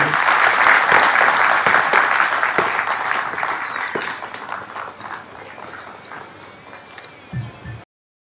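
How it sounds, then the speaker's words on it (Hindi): A crowd at Darbhanga district's 150th foundation day celebration claps loudly at first, then the applause gradually thins and fades out, ending with a brief soft thump. "जोरदार तालियां आपकी तरफ से आनी चाहिए"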